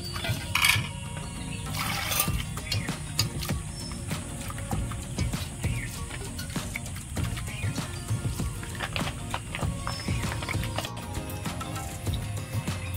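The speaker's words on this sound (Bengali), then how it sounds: "এবার আমি জল দেব, জল দিয়ে ভালো করে ধুয়ে নেব।" Jackfruit seeds rinsed by hand in a bowl of water, with continuous close sloshing, swirling and clicking of the seeds knocking together, moderately loud and without talk.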